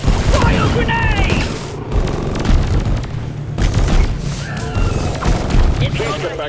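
A cryo grenade detonates in Deep Rock Galactic during a solo scout salvage mission, a loud booming burst tangled with rapid gunfire and crashing impacts that carry on densely through the whole stretch.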